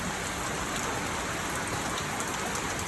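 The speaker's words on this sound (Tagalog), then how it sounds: "Itong ulan na to ay dalhin doon sa doon sa nangangailangan ng tubig para sa kanilang mga pananim." Heavy rain falls steadily on a rainy morning in Manila, a dense, even hiss of drops on surfaces with no breaks or voices over the few seconds.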